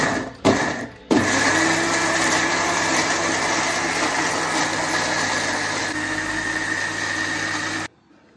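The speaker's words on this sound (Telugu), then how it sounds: "మిక్సీ కొడదాం." A mixer grinder blending juice with a little water whirs loudly after a few short starting bursts, running steadily for several seconds before abruptly cutting off.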